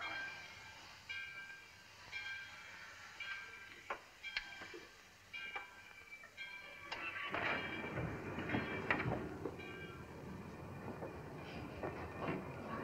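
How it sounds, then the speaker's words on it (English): A train starts moving: quiet squeals and clicks at first, then a louder rumble with rhythmic wheel clatter builds midway and keeps rolling. "The train's moving."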